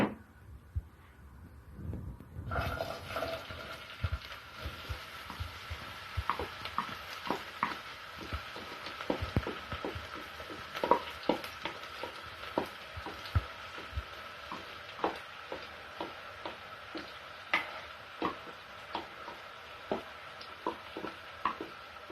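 Onion sizzles and crackles steadily in hot oil, a continuous frying hiss with scattered pops, after a brief quiet start.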